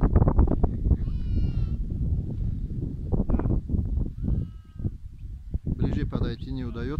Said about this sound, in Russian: Это видео баранчики для Бориса.